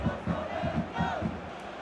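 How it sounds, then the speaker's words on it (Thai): A stadium crowd chants and cheers for Thailand in a PES 2021 football match, rhythmic massed voices pulsing in regular beats at moderate volume, steady and distant. "กองเชียร์ค่อนข้างที่จะคึกคักเลยนะวันนี้สำหรับทีมชาติไทย"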